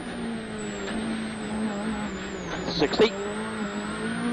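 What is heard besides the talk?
WRC rally car engine on the Spain power stage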